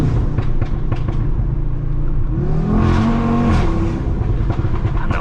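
A 570 hp Audi RS3 engine revs hard and accelerates, a loud close roar rising in pitch before a banging upshift, with no talking.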